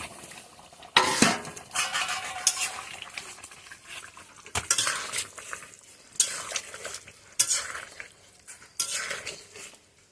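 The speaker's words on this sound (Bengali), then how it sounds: "এখন এর মধ্যে মাছগুলো ছেড়ে দেব। এই যে মাছগুলো সব ছেড়ে দেব।" Fish pieces dropped into a boiling curry with potatoes, a series of close clattering spoon-and-pot knocks and splashes over a low bubbling simmer, repeated irregularly, with no talk.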